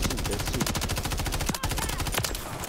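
Rapid automatic gunfire from Modern Warfare 3 beta multiplayer, dense bursts of shots rattling continuously for nearly three seconds, loud and close, with a brief pause in the middle.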